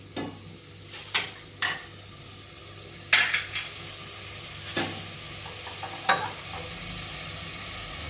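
Chicken frying in a pan with chopped coriander and parsley for a Moroccan chicken and rice dish makes a soft, continuous sizzle, broken by several sharp scrapes and clinks as a utensil stirs against the pan.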